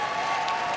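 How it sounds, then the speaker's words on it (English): Crowd applause with a few cheers fills the hall at a Westminster Kennel Club dog show during Terrier Group judging, a dense steady wash of clapping with no break. "this guy's getting a lot of applause tonight"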